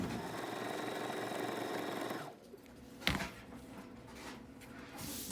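A sewing machine stitches along the edge of scrunchie fabric, a fast steady mechanical whir for about two seconds, then stops, followed by a brief click and quieter handling sounds.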